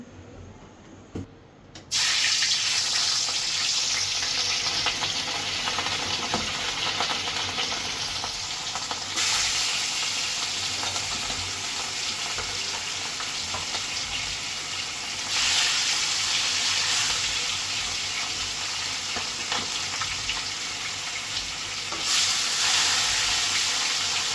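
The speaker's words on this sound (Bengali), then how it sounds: "মাছ ভাজা হয়ে গেছে" Rohu fish fries in plenty of oil in a pan, giving a loud, steady, dense sizzle that starts suddenly and holds for over twenty seconds, with small surges and crackles and no talk.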